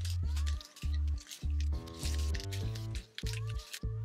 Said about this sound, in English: The brush sounds like it's breaking and it looks like it's breaking